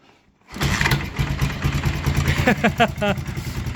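A cold engine on a cheap Japanese vehicle cranks over, catches and starts, then runs with uneven revs and a few sharp throttle blips. It is close and loud, with voices audible over it.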